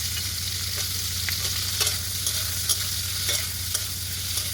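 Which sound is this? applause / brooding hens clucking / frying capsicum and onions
frying capsicum and onions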